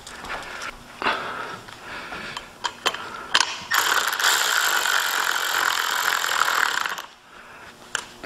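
A hand ratchet snugs up roof rack bolts on a Fox Body Mustang, sounding as close, crisp clicking strokes in short bursts, then one longer run of rapid ratcheting before it stops.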